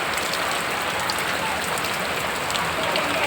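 Heavy rain pours down in Andhra, a dense, even roar of drops hitting surfaces that continues without a break, close and loud.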